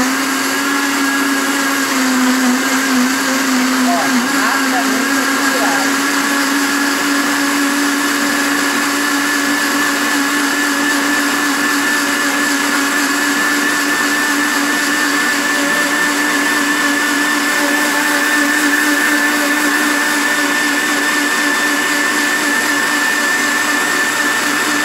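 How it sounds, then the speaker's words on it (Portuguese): Blender running continuously on guava leaves, a loud, steady motor whine held at a constant pitch close by for the whole stretch, with no voices. "O liquidificador já está aqui do lado. Nós vamos bater as folhas até que fique"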